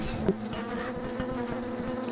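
Bees buzzing in the survival video game Don't Starve Together, a steady droning hum at moderate loudness with a brief louder buzz near the start, heard without any talk.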